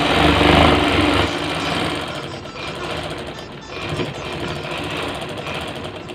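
A sewing machine runs steadily, stitching the folded hem of a polyester bed sheet with a fast continuous mechanical rattle, close and loud throughout, slightly heavier at the start.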